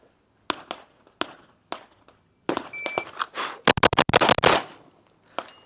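Rapid string of six handgun shots from a Walther PDP Compact pistol on an outdoor target range, sharp loud cracks in quick even succession after a few scattered distant shots.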